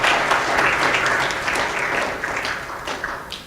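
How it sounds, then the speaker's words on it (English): Audience applause at a speech event on philanthropy, a dense steady wash of many hands clapping close by, holding strong for a few seconds with no voices over it. "let's give a big round of applause to Asif"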